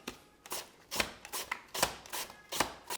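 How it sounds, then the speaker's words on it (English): A knife slicing potatoes for french fries, about nine crisp, even strokes in steady rhythm, close and fairly quiet with no talking. "We're gonna start slicing them."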